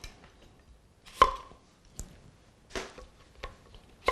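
A sharp chef's knife chops on a cutting board in a home kitchen, giving about five sharp, separate knocks spaced irregularly against quiet background, with no talking.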